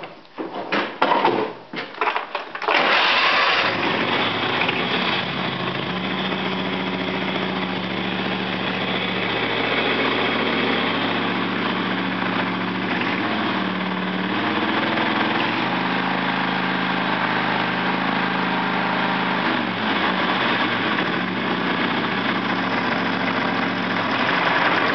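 A three-cylinder diesel tractor engine cranks and catches after a few seconds of rough starting, then settles into a steady, loud idle that runs on evenly with no talk over it.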